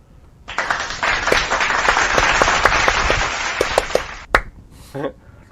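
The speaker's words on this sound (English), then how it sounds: "let's give everyone a round of applause" Loud applause from a crowd, steady clapping that stops abruptly, followed by a few brief sounds and a short voice.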